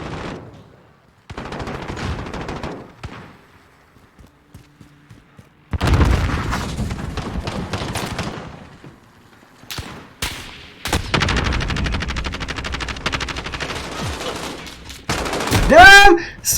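Gunfire in Call of Duty Modern Warfare multiplayer, loud bursts of rapid shots and booms in several sustained volleys separated by short quiet gaps.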